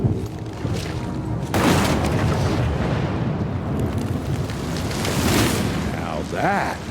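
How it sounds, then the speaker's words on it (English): A big explosion from the video game Evil West booms loudly at the start, then its heavy rumbling roar and debris noise continue, with some game voice and effects mixed in. "Now that is how you shape an explosion."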